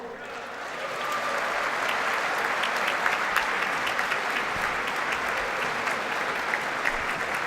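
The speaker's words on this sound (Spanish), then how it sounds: "recibamos en este escenario con un gran aplauso a los emisarios de la suerte y la fortuna" A live audience applauds steadily as children from Mexico's National Lottery take the stage at a lottery draw marking the CTM's 80th anniversary, the dense clapping holding even throughout.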